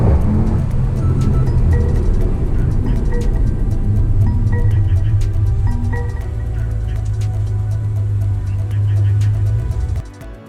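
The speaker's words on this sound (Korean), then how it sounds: "약 80km까지 가속 후 EPB 버튼을 작동하는 상황입니다." A Mercedes-Benz car accelerating to about 80 km/h, with a loud, steady engine and road drone throughout that drops away abruptly near the end as the electronic parking brake triggers an emergency stop.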